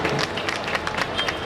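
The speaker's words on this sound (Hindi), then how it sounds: "जोरदार तालियां" Dense applause from an audience at an outdoor Indian public gathering with saints and officials, steady and loud throughout, with faint voices mixed in.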